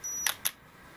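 Two quick, sharp mechanical clicks from the shutter button of a Mamiya U compact camera being half-pressed, close and crisp, with a faint high electronic whine before them.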